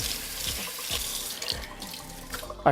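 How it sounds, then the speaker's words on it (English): Water runs from a kitchen sink faucet as a sponge is rinsed clean of putty during crown molding work on kitchen cabinets. The flow is steady and close, with a few soft squeezes and splashes and a brief clatter at the end. "rinse it off to get that putty off of it"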